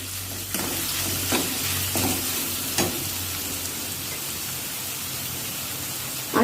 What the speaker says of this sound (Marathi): आता यात घालूया अर्धा चमचा धनेपूर धनेपूर घालून परत एकदा परतून घेऊया